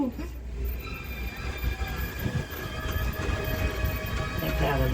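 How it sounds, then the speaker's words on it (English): A studio tour tram rumbles steadily through the Universal Studios Hollywood backlot, a continuous rolling drone with faint squeals, heard from on board. "Trams been driving through here since 1964"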